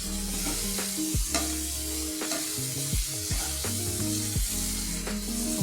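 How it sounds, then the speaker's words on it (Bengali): Fried potatoes tossed into a pan of sizzling cooked-down spice paste for a tengra fish curry, a loud, continuous sizzle close up, broken by clanks and scrapes of the spoon stirring. "মশলাটা কষানো হয়ে গেছে, এখন আমি তাতে দিয়ে দিব আলুগুলি যে ভেজে রেখেছিলাম"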